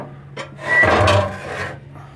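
The draft door on the new base of a large copper-tubed steam engine boiler is opened with a short metallic scrape and rasp, loud and close, swelling for about a second before fading.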